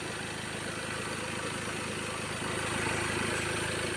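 A repaired Ford Ranger's engine idles at a low, even drone, steady and unbroken for a few seconds with no voices.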